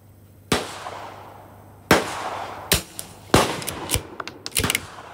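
A CZ 457 rimfire rifle fires Lapua CenterX ammunition in a series of sharp, separate shots, loud and close. The first shots are spaced more than a second apart, and the later ones come quicker, with fainter cracks among them.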